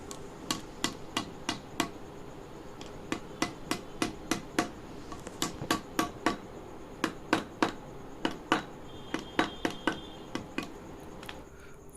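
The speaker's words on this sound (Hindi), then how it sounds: "फिर पुरानी सील को उस पर उल्टा रख के आपको उस जो पैलेट है उससे" A new front fork seal is hammered into a Hero Impulse motorcycle fork with an old seal laid upside down on top, a steady series of sharp metallic taps, close and fairly even in rhythm, with no talk.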